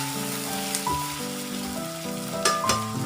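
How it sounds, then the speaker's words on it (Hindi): Half-cut chicken leg pieces fry in a pan with a loud, dense, crackling sizzle heard up close. Sharper pops burst out near the end, and no one speaks. "अब इसको हम हल्का सा फ्राई करेंगे ताकि इसका कलर चेंज हो जाए।"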